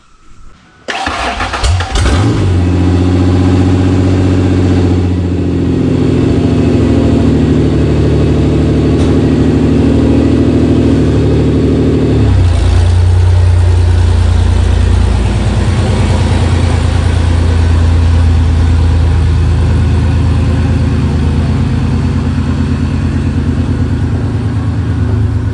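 A second-generation Ford Explorer on 38-inch tires cranks and starts with a sharp catch, then idles loud and steady before the engine note drops and settles into a lower, rougher rumble as it pulls away, with no talk.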